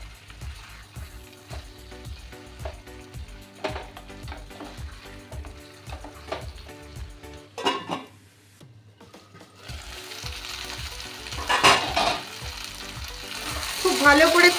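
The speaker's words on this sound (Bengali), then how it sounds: "এবার এটা ভালো করে কষিয়ে নেব।" Boiled potatoes and cauliflower being sautéed in a pan for a cauliflower dum: a steady sizzle with scraping, clinking stirs throughout, growing louder and busier toward the end, with no talking.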